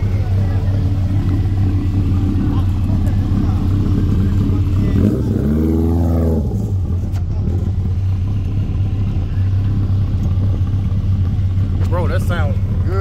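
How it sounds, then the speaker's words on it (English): A tuned car's engine idles with a deep, steady drone, rising into a short rev midway before settling back, while people talk nearby over it. "This car sounds good as hell."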